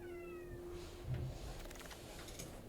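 A kitten gives a soft, faint meow, a few drawn-out tonal cries over a quiet, hissy room background with no talking.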